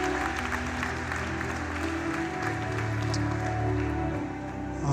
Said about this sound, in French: applaudissements pour fidélité de la salle là matin